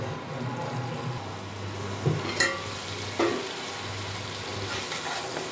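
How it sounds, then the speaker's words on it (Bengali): Turmeric fries in oil in a pan with coriander leaves while making dhaniya aloo, a soft continuous sizzle over a low hum, with a few sharp scraping clinks from a stirring spoon. "সামান্য একটু হলুদ দিয়ে দিচ্ছি। এটা একটু ভাজতে হবে।"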